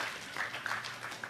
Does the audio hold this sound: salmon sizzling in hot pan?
no